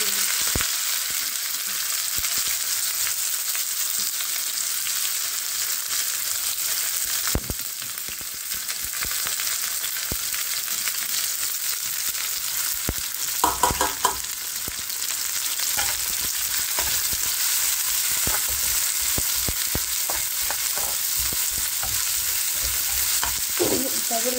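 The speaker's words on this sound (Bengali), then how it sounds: "তো এখানে আমি শাক ভাজি করার জন্য কড়াইতে তেল দিয়ে মরিচ ভাজতেছি" Chilies frying in oil in a wok for a greens stir-fry, a steady close, dense sizzle running throughout with a few louder spits and stirring scrapes near the middle.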